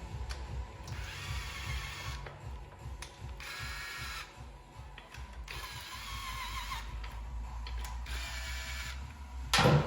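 A ratchet drives bolts into the primary cover of a 2006 Harley Ultra CVO, with rapid clicking pawl bursts repeating in several close, distinct runs separated by short pauses, and a louder clunk at the end.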